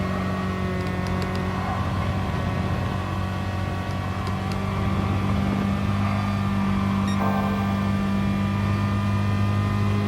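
Tesla Model S electric motor straining up a hill in the Gran Turismo racing game, a steady sustained drone with layered tonal whine, loud and constant throughout without pause.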